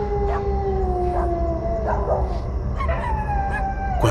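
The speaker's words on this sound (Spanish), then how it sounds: "los perros de todas partes ladraban y aullaban." Several dogs howling and barking at night near a ravine, long sliding howls overlapping with short yips and barks, steady and fairly close over a constant background hiss.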